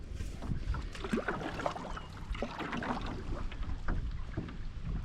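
A canoe paddled across a small pond near Atikokan, with soft water swishes and dips from a light paddle against steady outdoor wind and water noise, no talking.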